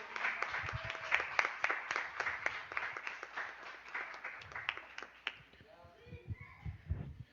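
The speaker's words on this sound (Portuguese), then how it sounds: "Será que você pode aplaudir ao Senhor Jesus?" A church congregation applauds with dense, close clapping for about five seconds. It then thins out into scattered claps while voices and children's chatter carry on underneath.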